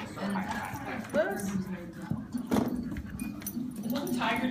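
Dogs at a dog park, big ones playing with smaller ones: whimpers, yips and scuffling close by under nearly continuous conversation.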